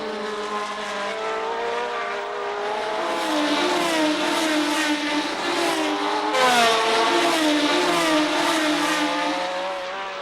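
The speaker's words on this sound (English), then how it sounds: "Here the V12s could show all their power." 1970 Formula 1 V12 race cars racing at Clermont-Ferrand, a loud high-pitched engine scream sweeping up and down as cars pass, swelling louder midway, with no talk.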